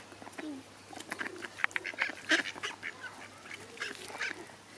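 Ducks quack and honk in repeated excited bursts while being fed bread, several birds calling close by at once with brief quiet gaps between outbursts.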